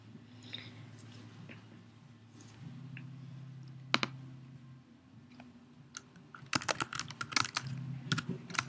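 A computer keyboard clicks faintly during copying and pasting text, with sparse taps at first and then a quick cluster of sharper clicks near the end, with no talking.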